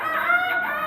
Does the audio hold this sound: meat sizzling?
no